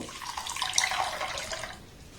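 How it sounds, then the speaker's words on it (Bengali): Water poured from a tap into a bowl holding 1.5 cups of raw atap rice for washing: a steady splashing stream that runs for over a second and then stops, close and moderately quiet. "এবার এখানে আমি জল দিয়ে দেব।"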